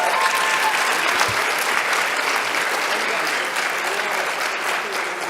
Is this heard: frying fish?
no